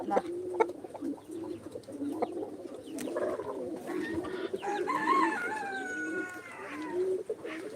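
Speckled backyard chickens make faint, close clucks and throaty calls, with a brief louder warbling stretch midway. A low background hum runs underneath.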